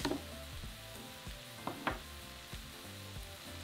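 Beef stir fry sizzles in a hot pan with a steady crackling hiss, broken by a few louder pops and scrapes as the food is stirred; no voices.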